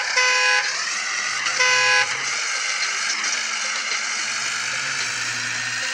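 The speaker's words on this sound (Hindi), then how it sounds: "इसे दोस्तों हम हॉर्न दे रहे हैं" A vehicle horn in the Construction Simulator video game blares twice in short loud honks of roughly half a second each, over a continuous droning engine hum.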